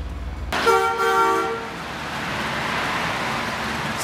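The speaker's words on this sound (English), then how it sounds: "So this is the train ride that's been at the park for years" An amusement park train ride at Six Flags Magic Mountain sounds a loud horn toot lasting about a second, followed by steady rumbling ride and ambient noise with no talking.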